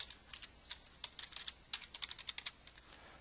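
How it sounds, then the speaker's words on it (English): Rapid bursts of keystrokes on a computer keyboard while entering a password, close and crisp with uneven rhythm and short pauses between clusters of taps. "type in your password,"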